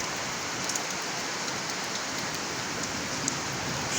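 Heavy rain pours steadily during a strong winter storm, a dense, even hiss of drops hitting surfaces throughout with no pauses; no distinct thunder clap stands out.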